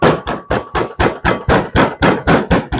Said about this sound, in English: I'm going to take my butcher hammer and I'm going to tenderize it